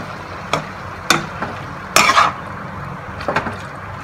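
Sambhar masala paste being stirred in a pan, with a spoon scraping and tapping against the metal in a few separate strokes over a faint sizzle, close and without talk.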